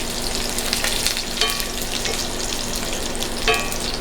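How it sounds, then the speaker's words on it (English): Banana plantains sizzle as they stir-fry in a pan for Peruvian lomo saltado, with a steady broad hiss and a few louder clatters as the pan is tossed, close up and with no voices. "So I'm going to toss it a few times, let it cook"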